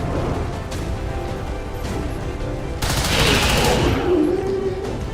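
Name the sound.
heavy gunfire in video game XCOM 2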